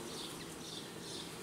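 Honey bees buzz around a hive frame lifted during a beekeeping inspection, a soft, steady, continuous hum close by with no pauses and no talking.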